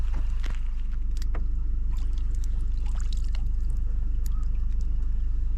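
Clean mountain water is poured into a container outdoors, a faint, uneven trickle with a few small splashes over a steady low rumble.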